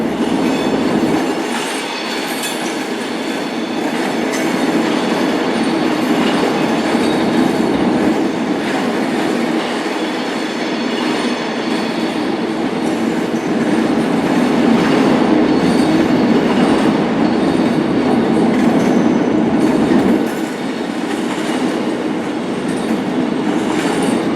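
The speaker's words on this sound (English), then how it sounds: "There's a Pendolino." A Pendolino train rolls through Glasgow Central station with a steady, loud rumble of wheels and carriages that holds for the whole stretch, without any voices.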